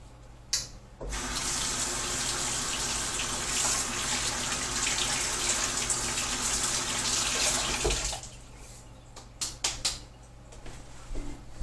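Water runs from a tap in a steady, hissing stream for about seven seconds, then shuts off and leaves a few faint knocks and drips.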